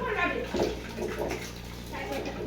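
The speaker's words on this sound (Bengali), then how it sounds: "প্রথমে চালটা আমি ধুয়ে নেবো" Rice being washed by hand in a pot of water for orange rice, a soft close sloshing and swishing with gentle splashes, accompanied by a low background hum.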